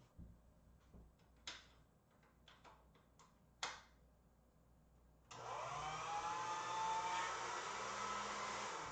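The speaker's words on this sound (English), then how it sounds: "I'm going to put that through the machine at the medium setting" White clay gets handled with several small clicks and knocks, then a pasta-style machine at a medium setting starts up with a steady, whirring motor drone that runs loud and close to the end, with no voices.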